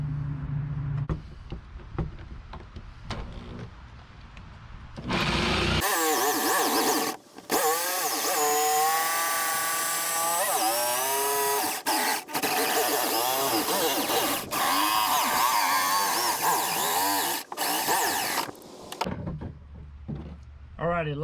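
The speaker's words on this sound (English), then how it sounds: "let me get my jigsaw and we're going to get this hole cut out" A jigsaw cuts a hole for a 5-inch deck plate in a Perception Outlaw 11.5 plastic kayak, a loud buzzing rasp with brief pauses that runs for about thirteen seconds after some quieter handling sounds.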